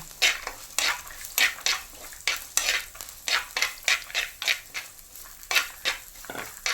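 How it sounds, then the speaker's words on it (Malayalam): Sliced onions sautéing with ginger and garlic in a pan for Kerala-style tuna thoran, with a steady sizzle broken by rhythmic scraping stirs of a spoon against the pan, close and fairly quiet. "ഇനി നമുക്ക് അരിഞ്ഞ് വെച്ചേക്കുന്ന സവാള ഇട്ട് കൊടുക്കാം"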